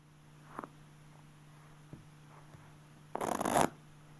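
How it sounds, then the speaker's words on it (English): A deck of playing cards is riffled in a loose, open poker-style shuffle, a brief close burst of flapping rattle after a few soft taps and handling noises. "The open shuffle is a very open, kind of sloppy shuffle"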